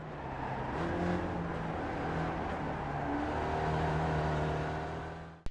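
Spec Racer Ford engine held at full throttle in iRacing at Charlotte road course, a steady droning roar with shifting harmonic whine, loud and continuous before cutting off abruptly at the end.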